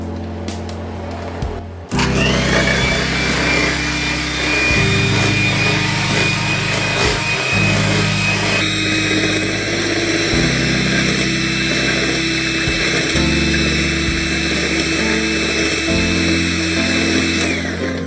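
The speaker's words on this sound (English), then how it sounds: "I'll start the blender up." A kitchen blender runs loud and steady, whirring on as bananas, chocolate pudding and milk are blended into a batter, its motor pitch shifting between steps as the jar contents churn, with no talking over it.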